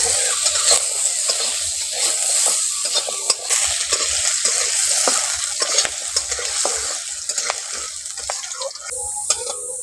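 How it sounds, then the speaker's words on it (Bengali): Round peeled potato slices fry in hot oil with a steady, close bright sizzle and crackle, plus occasional stirring clicks, running without pause and easing a little near the end. "এবার আমি আলুটাকে ভেজে নিচ্ছি।"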